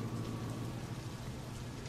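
Steady, dense rainfall in the Rain World: Downpour video game, a continuous hiss of drops with a low rumbling undertone, even and unbroken throughout.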